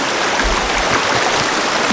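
Water from a spring rushes in a small stream after heavy rain, a close, loud, steady broadband gush with a constant churning texture.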